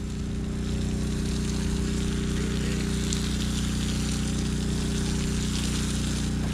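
A homemade DIY hydroseeder spraying water from its hose: a steady, loud pump-driven hiss and gush with a constant low motor drone underneath, running unbroken throughout.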